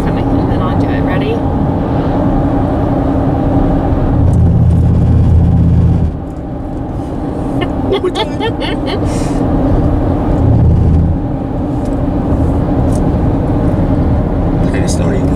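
A car drives over a rumble road, its steady loud road and engine drone broken by two low, buzzing droning stretches from the grooved surface, with voices talking over it.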